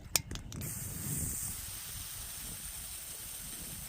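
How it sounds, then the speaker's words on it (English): A few quick clicks, then a steady, faint hiss from a Rust-Oleum spray paint can being sprayed to clear its nozzle. "spray it until the paint's done coming out and some air comes out"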